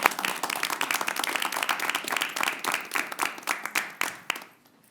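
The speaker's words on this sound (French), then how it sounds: "Alors, oui, une bonne main d'applaudissements." A room of council members at a regional county meeting gives warm applause for the new prefect, a dense, steady patter of many hands that thins into a few final claps and fades out.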